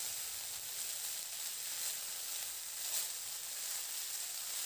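Chopped chickpea greens hiss and sizzle steadily in hot oil with fried garlic, a continuous bright frying noise with small crackling swells and no talk.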